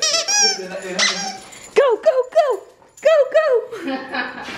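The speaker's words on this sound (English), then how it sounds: "She likes the super squeaky toys." A dog plays with a super squeaky toy indoors, squeezing out a quick series of loud, high squeaks with whiny yips between them, close by, with people talking around it.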